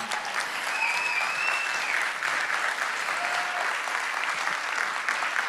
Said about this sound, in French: S'il vous plaît, des applaudissements pour Véronique Marie, Emmanuel Audard, Emman